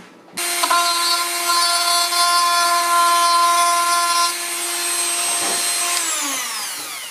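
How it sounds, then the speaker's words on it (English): A Dremel rotary file spins up and grinds steadily while smoothing plastic LED tail light parts on a 1976 Mazda RX-5 Cosmo, a loud continuous whine with a steady pitch that drops off and winds down at the end. "The Dremel rotary file makes a great little end mill to smooth these out."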